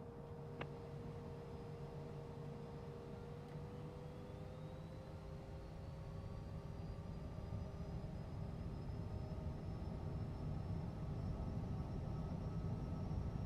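Steady drone of a Cessna's engine in the Tailstrike flight game, a constant hum with a slowly rising whine as it powers up for takeoff, even and unbroken throughout.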